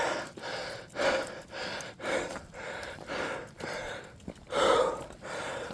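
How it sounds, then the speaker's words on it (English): Heavy, labored breathing from someone hiking up a steep hill, a steady rhythm of loud gasping breaths close to the mic, roughly one every second, with no talking. "Oh, breathing so hard I can already feel I breathe the back of my throat raw."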